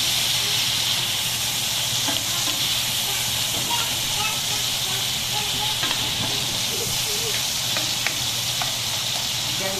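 Cheese sizzling on a hot pan while cooking oyster cake, a steady close hiss that holds for the whole stretch without a break.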